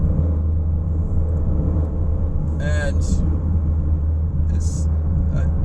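A 2021 Subaru Crosstrek Sport with a 2.5-liter engine drives twisty back roads, its steady low road and engine rumble continuous beneath a voice talking.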